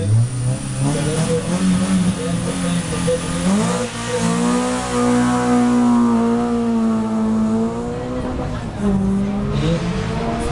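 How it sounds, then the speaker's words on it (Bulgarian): Citroen Saxo rally car accelerating from a stage start at a Bulgarian rally near Sliven, its engine revving loud and close with rising, stepped harmonics through gear changes over about ten seconds. "Дилян Стеглов с Citroen Saxo перфектен"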